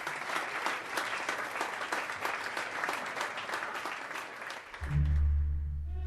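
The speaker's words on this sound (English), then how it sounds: "there was a pause, and then everybody clapped." A crowd claps steadily in a story-concert performance by a symphony orchestra, dense applause that stops as a low sustained orchestral chord enters near the end.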